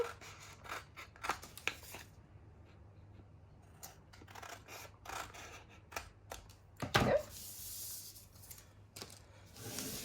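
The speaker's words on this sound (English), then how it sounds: "I actually forgot to trim this part off, so let's do that now" Scissors snip through decorative floral paper while a paper pouch is trimmed, giving a few soft, close cuts and rustles with one sharper clipped snip near the end, with no talking.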